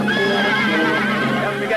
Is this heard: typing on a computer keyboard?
no